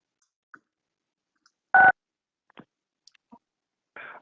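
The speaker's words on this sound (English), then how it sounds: "Press *6 to unmute your phone." A telephone keypad is pressed to unmute during a city council meeting call: one clear dual-tone beep stands out amid soft sparse clicks, followed by a fainter buzzy tone at the end.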